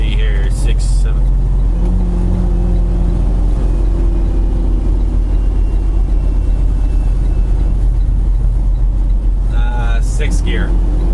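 A truck rolls downhill in sixth gear with the engine brake holding it near 1500 RPM, giving a loud, constant low engine roar inside the cab, with someone talking briefly at the start and end.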